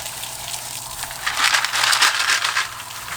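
Running tap water splashes over the parts of a Magniflow 360 aquarium canister filter as they are rinsed, a steady close gush that swells louder in the middle before easing back.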